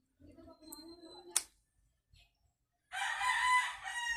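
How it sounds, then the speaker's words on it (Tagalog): After a short click and a pause, a rooster crows loudly and clearly in one long call; a brief bit of talk comes before it. "Yun, may manok."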